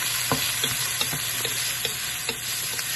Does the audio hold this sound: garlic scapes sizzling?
yes